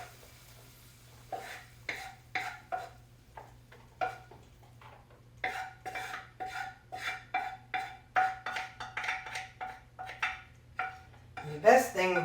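A utensil scrapes and clinks repeatedly against a cast iron skillet as food is scooped into a bowl, making a quick, irregular series of close metallic taps over a low hum, with a louder clatter at the end.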